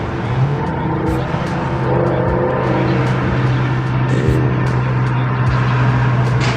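A car engine revs hard and steadily on a rainy road, close and loud, with tire noise and the hiss of wet surroundings running throughout, while a voice talks faintly underneath.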